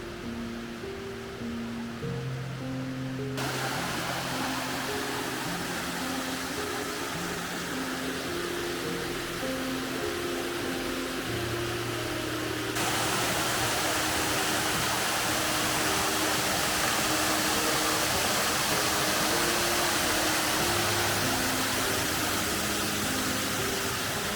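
A waterfall in Istria drops in two streams, a loud, continuous roar of falling water that jumps abruptly in level partway through, with steady tonal sounds layered over it.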